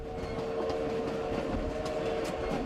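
A D&RGW narrow gauge train running beside the Animas River out of Durango: a steady rumbling roll with a low mechanical drone and a few faint clicks, continuous and fairly distant, with no voices.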